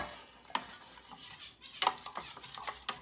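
Condensed milk being stirred into a Guyanese Mithai mixture, with a handful of sharp spoon clacks and scrapes against the bowl spaced irregularly over soft, quiet rustling, and no voices.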